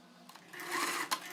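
Sewing machine stitches the side seams of a straight skirt in a short, steady whirring burst, close and fairly quiet.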